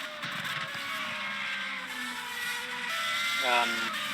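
Race car engines in the racing game rFactor 2, at the Brazil track, whine and drone continuously, pitch shifting as they rev, with faint voices underneath.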